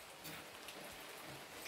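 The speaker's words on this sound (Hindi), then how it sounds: "बारिश सुबह से इतनी लग रखी है" Rain that has been falling since morning comes through as a faint, soft, continuous patter from some distance, with no one talking.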